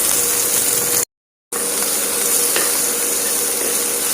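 Capsicum and onion sautéing in a pan for gobi manchurian give a close, loud, steady sizzle with scraping stir strokes, broken by a half-second gap of silence, with no talking.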